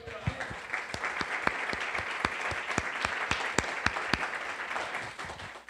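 A church congregation at a Sunday service applauds, a rough wash of clapping punctuated by sharp individual claps, fairly distant and moderate in level, with voices faintly underneath.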